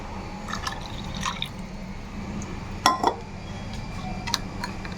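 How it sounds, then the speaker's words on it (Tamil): Milk added a little at a time to eggless chocolate brownie batter in a bowl, giving light drips and a short splashing pour over a low steady hum, close and fairly soft. "நெக்ஸ்ட்டு கொஞ்சமாக வந்து பால் ஆட் பண்ணுறேன்."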